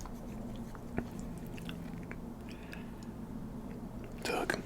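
Mukbang eating of Olive Garden shrimp linguine Alfredo with char on the shrimp, close soft chewing and wet mouth sounds with a faint hum underneath, ending in a brief louder crunchy bite.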